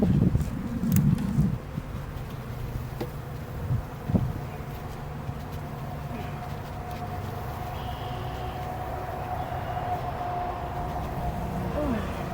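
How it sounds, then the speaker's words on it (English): A steady droning buzz of many Carniolan honey bees fills the air close by, with some handling knocks early on. "Now we gotta shake some more of these bees in there for her."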